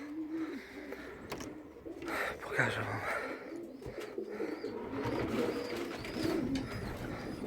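Soft cooing of several pigeons close by in a loft, with wing flutters and rustling, while someone speaks briefly over them.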